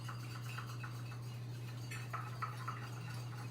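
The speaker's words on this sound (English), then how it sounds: "Here it is, my whisk, and here we go, whisk, whisk, whisk." Eggs being whisked with a whisk, a faint quick rhythmic tapping and clinking against the bowl over a steady low electrical hum, quiet and close, no talking.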